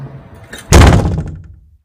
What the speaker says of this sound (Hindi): अचानक तमाम क्लासरूम दरवाजे जोर से खुलने और बंद होने लगे